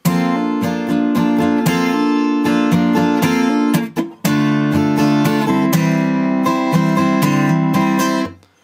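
Strummed guitar plays a short chord passage in steady rhythm, with a brief pause and rapid muted strokes midway before ringing out.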